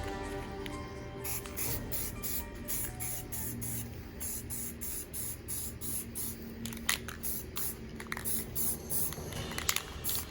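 Sun yellow spray paint hisses steadily from a can as a coat is applied to a CNC-machined Batman flag, a continuous close spray with short rapid bursts and light clatter.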